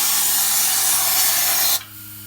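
A spray gun pulls and hisses inside a compartment of a Toyota Land Cruiser 100 series, a loud steady airy spray lasting under two seconds before stopping abruptly, leaving a low hum.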